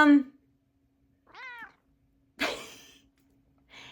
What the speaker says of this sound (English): here goes my cat. She's trapped in the room again because she didn't want to come out.